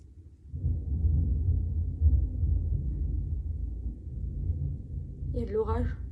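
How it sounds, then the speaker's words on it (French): Low, sustained rumble of thunder from a thunderstorm, steady and moderately loud, with a voice speaking briefly near the end. "Il y a de l'orage."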